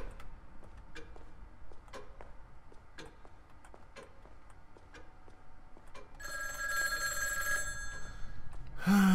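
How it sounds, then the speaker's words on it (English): A telephone rings in the horror video game Obscuritas, a loud sustained bright ring rising near the end, preceded by steady clock ticks in a quiet room. "You keep ringing, but nobody's ever on the other end."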